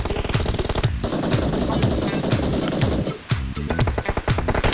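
Rapid gunfire while snap shooting in the mobile battle-royale game PUBG Mobile, loud dense bursts of shots in quick succession with a brief pause midway, fired close and dominating the mix.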